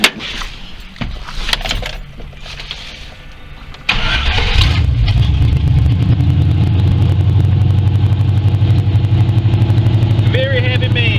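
A Ford OBS truck engine, freshly fitted with a new distributor, cranks and catches at about four seconds, then settles into a steady, loud idle close by; scattered talk and handling noises come before the start.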